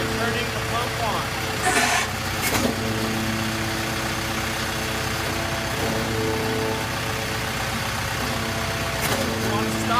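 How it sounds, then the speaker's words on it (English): A concrete pump is switched on and runs with a steady, loud mechanical engine drone and hum. A few sharp clanks punctuate the drone, and a voice talks over the machinery. "You just need to activate the pump and turning the pump on."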